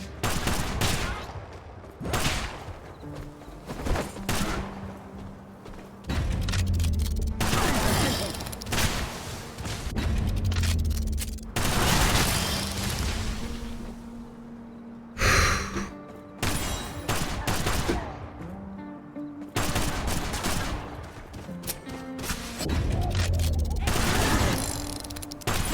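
Sniper gunfire in the video game Kill the Crows, with repeated sharp shots and bursts coming in uneven clusters amid loud game effects, separated by brief quieter gaps.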